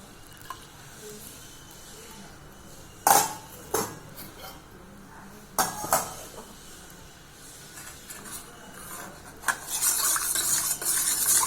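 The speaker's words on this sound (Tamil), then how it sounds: "கொஞ்ச நேரம் கிண்டலாங்க." Melted herbal soap mixture with carrot juice is stirred in a pot. A utensil scrapes and clinks against the pot in scattered strokes, with a rising bubbling hiss toward the end, close by and with no talk.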